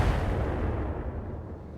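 Heavy mortar fire booms from a BattleTech game battle, a single deep, rumbling blast that decays over about two seconds, close and loud with no voices.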